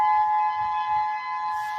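Emergency sirens sound during a wildfire evacuation on Maui, a steady sustained wail holding one pitch with overtones, loud and continuous for the whole stretch, with faint low rumble beneath and no talking.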